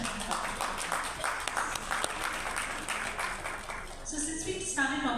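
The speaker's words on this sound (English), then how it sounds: "applaud for India." An audience at a literary festival conversation applauds in a sustained, moderately loud wash of clapping, and a voice begins speaking over it near the end.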